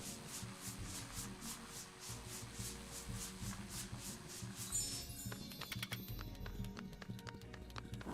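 Scrubbing a dirty spot clean in the video game A Tiny Tale, a steady rhythmic rubbing and brushing sound that repeats quickly and evenly, then shifts to lighter clicky effects, quiet and with no talk.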